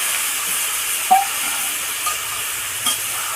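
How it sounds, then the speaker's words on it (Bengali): A little water hits a hot pan of kachki fish and taro stolons, producing a steady, even steam hiss with a few faint pops and no voices. "সামান্য একটু জল দিলাম, বেশি জল দেবো না"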